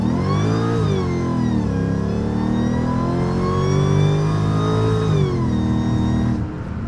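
Supercharged Mercedes E55 with the M113k engine and an upgraded 92mm throttle body revving hard on a pull, a loud, sustained engine roar with a rising supercharger whine that holds steady, then eases off at the end.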